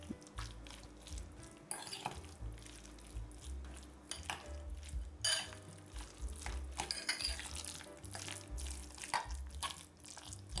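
Spinach filling being mixed with crumbled feta in a bowl, a spoon scraping and clinking against the sides in a steady run of stirring strokes, with no talk.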